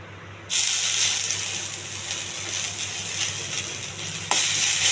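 Fresh coriander leaves frying on low heat in a pan for chutney, a steady loud sizzling hiss that starts suddenly and holds evenly, with a slight clink near the end.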